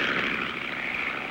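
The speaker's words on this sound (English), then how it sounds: "I hear an airplane. Sounds pretty low, too." A low-flying propeller airplane drones overhead in a steady, broad engine hum that stays even through the brief moment.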